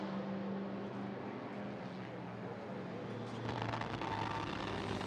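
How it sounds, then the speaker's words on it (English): Onboard sound from a TCR touring race car during qualifying at Marrakech, 2024 Kumho FIA TCR World Tour, a steady loud engine drone with a brief rise in pitch near the end, and commentary running over it. "BRC squad looking on as their man Michael Afkone that we're riding on board with now into the left-hander."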